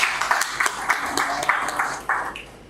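Audience applause at a political gathering amid a post-election crisis, steady clapping with bursts, moderately loud and continuous, with some crowd voices mixed in.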